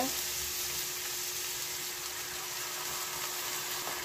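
A steady, bright sizzle rises from a pan where a tuna fillet fries as water is poured in, a continuous hiss that stays fairly even and quiet throughout.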